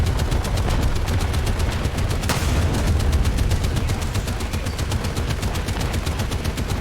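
Rapid machine gun fire from a tank battle in the video game War Thunder, a steady continuous stream of fast, evenly spaced shots at loud, close level with a single heavier bang partway through.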